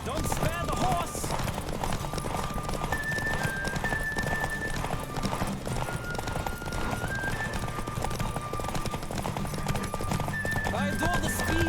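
Steady clip-clop of galloping hooves from a horse in The Witcher 3: Wild Hunt runs throughout, with a horse whinnying and background music and voices over the rhythmic pounding.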